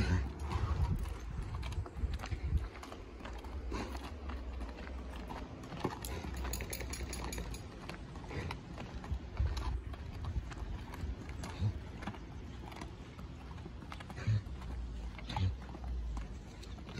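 A horse's hooves clip-clop at a steady walking rhythm, fairly close, with a faint voice and light background noise.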